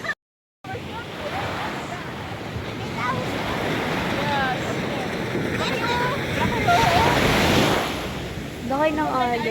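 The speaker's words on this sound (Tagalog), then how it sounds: "Ang laki ng alon, Bri." Big ocean waves crash and roll in close and loud over steady wind noise on the microphone, the surf surging in several heavy swells while excited voices talk and exclaim throughout.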